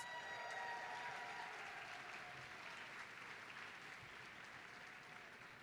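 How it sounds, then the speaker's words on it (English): Sustained applause from a large audience at a University of Wisconsin-Parkside commencement ceremony, a dense even patter of clapping that fades slightly over several seconds. "Give another round of applause."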